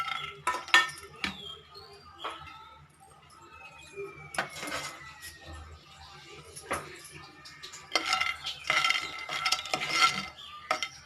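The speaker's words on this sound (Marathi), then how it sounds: "प्रथम हे शेंगदाणे थोडेसे भाजून घ्यायचे" Peanuts dry-roasting in a pan for vada pav dry chutney, with scattered scrapes and rattling clinks as a spoon stirs them, some bursts clustered together and others spaced apart against a quiet background.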